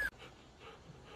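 A plump small dog pants quickly and whimpers softly up close, faint and breathy, with a brief sharp sound at the very start.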